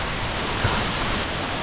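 Steady broadband rush of Katika waterfall, a continuous roaring wash of falling water heard up close with no gaps, no voices and no other distinct sounds standing out from the spray.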